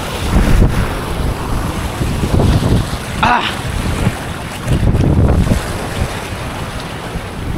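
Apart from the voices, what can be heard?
strong northeast monsoon wind blowing at a fishing spot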